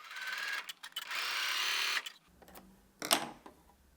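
A sewing machine stitching patchwork squares for a flower picnic blanket sews a quarter-inch seam in two short bursts of whirring, the first longer run about a second and a half, then a brief second burst near the end.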